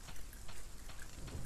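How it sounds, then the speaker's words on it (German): Steady rain falling over a cemetery in the video game Resident Evil 3, a soft continuous patter with faint scattered drops and low rumble, quiet and unbroken, with no voices. "wir watschen hier durch den Friedhof bei Regen"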